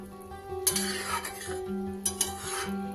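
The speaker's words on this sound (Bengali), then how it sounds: "কাঁচকলার মুঠাগুলো দিয়ে দিলাম।" Fried raw banana dumplings stirred in a pan with boiled potatoes in gravy, the spoon scraping and clinking against metal in two bursts over a steady low sizzle.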